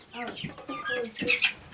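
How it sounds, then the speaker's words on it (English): A small mini chicken on a farm clucks in a quick run of short, chattering calls, close and fairly loud, with no one speaking over it. "so this one right here is a little mini chicken"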